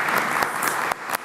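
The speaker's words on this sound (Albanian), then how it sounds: "E mirëpresim me duartrokitje" An audience applauds warmly to welcome a singer onto a TV music show stage, a dense, even burst of clapping that ends abruptly.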